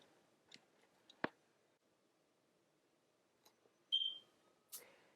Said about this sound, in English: my fire alarm, my smoke detector is out of whack